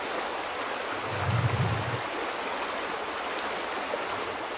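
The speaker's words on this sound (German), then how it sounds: "Das Wasser hat sich auf jeden Fall schon ein Stück beruhigt." A flowing stream in The Vanishing of Ethan Carter, a steady soft rush of water at moderate level. A brief low rumble swells near the start, and no one speaks.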